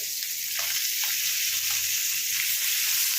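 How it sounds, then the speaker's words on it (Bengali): Parshe fish frying in oil in a pan, a steady bright hiss of sizzling with small bursts of spattering, close and uninterrupted by speech. "তো মাছগুলো এক পিঠ ভালো করে ভাজছি, তারপরে আবার উল্টে দেবো।"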